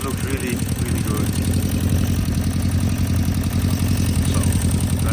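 A Honda CB350 Four motorcycle engine runs steadily at idle, a continuous low, throbbing rumble that stays even and fairly loud throughout.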